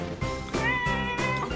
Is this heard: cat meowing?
yes